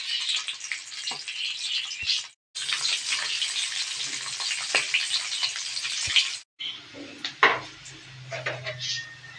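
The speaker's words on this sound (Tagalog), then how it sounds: "Initin lang po muna natin itong tinapa at dito na rin po natin igigis ang bawang at sibuyas at luya." Smoked fish heated in a pan with garlic, onion and ginger being sautéed: loud, close frying sizzle with scraping stirs, broken by two brief pauses.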